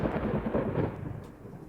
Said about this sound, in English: What's with the thunder?